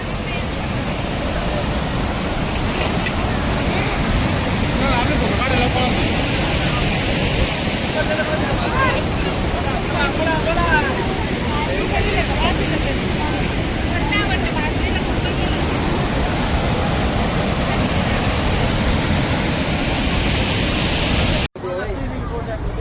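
A waterfall at Bhandardara roars loudly and continuously, a heavy rushing wash that fills the whole scene, with voices faintly mixed in.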